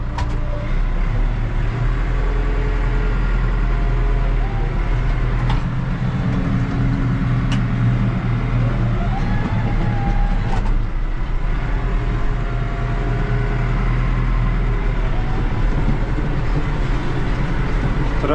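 Tractor engine running steadily in a field during back-and-forth maneuvering, a loud continuous low rumble with a constant drone throughout and no speech.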